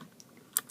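Cherry MX blue switch on a switch tester gives one sharp, close click near the end of a short, quiet stretch.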